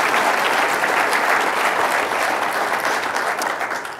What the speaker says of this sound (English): I would invite you to give them a round of applause